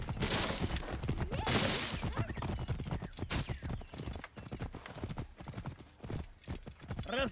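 Horse hooves clip-clop in Assassin's Creed Origins, a quick galloping rhythm of hoofbeats throughout, mixed with game sounds and a voice talking over them.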